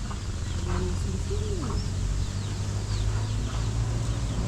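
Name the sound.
mother hen clucking with her chicks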